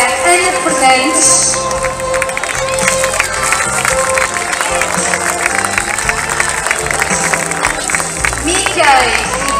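An audience at a town festival serenade in Arcos de Valdevez, Portugal, claps and cheers steadily over loud music, a continuous wash of applause with a lively crowd murmur.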